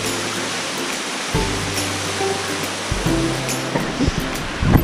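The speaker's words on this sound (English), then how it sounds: "See this, see this dope ass waterfall right there?" Waterfall at Erskine Falls near Lorne on the Great Ocean Road, a steady broadband roar of falling water heard alone, with low droning tones underneath.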